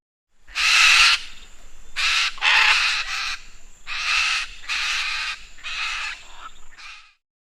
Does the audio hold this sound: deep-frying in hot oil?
no